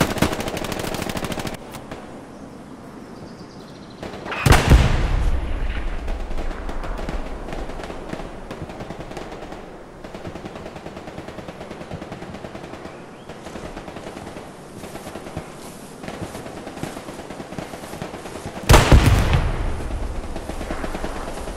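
Gunfire and artillery from the World War II shooter game Hell Let Loose, steady crackling rifle and machine-gun fire with two heavy booming blasts several seconds apart, loud and unbroken, with no voices.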